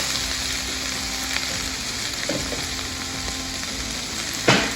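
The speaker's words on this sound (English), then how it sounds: "Today we're going to fry our greens." Leafy greens fry in a pan on a steady, close sizzle, with a few soft stirring clicks and a louder clatter near the end.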